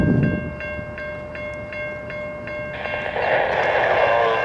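A westbound train passes at 14th Avenue West. A steady ringing tone pulses at a regular beat, then a broad rumble of rolling cars builds and grows louder toward the end.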